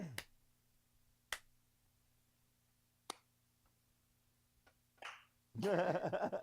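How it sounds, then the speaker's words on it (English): Four sharp, separate hand claps mark the start of a recording in a quiet room, widely spaced over several seconds, followed by a short burst of cheering voices. "I clapped 4 times."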